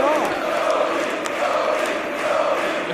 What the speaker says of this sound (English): The crowd getting behind Rhodes.